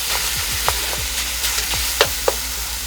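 Ground beef for Thai pad krapow stir-fries loudly in a hot pan, a constant close sizzle broken by several quick scraping strokes and knocks as a spatula breaks up the meat.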